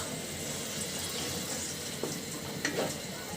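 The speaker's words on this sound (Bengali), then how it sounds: "তো মশলাটা খুব সুন্দর করে কষিয়ে নিব।" Masala paste of ginger, garlic, cumin, turmeric, chili and coriander frying in oil in a pan, a steady loud sizzle with a couple of brief clinks of stirring near the end.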